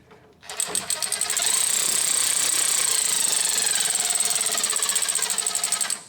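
Electric ratchet spinning brake caliper bolts down on a Ford F-series truck during a rear brake pad and rotor job, a steady close whirring buzz running continuously for several seconds with no talk.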